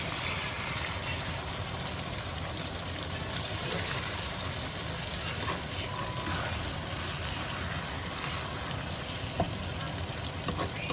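Potatoes fry in an open skillet with a steady, close, dense crackling sizzle that holds at an even level throughout, alone with no talking.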